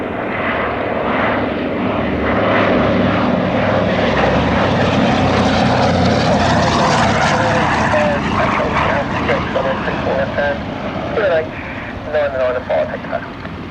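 A Douglas C-47B Dakota IV with twin propeller engines makes a flypast and break. Its deep, droning roar swells loud and then fades as it passes, with radio chatter and voices over the engines.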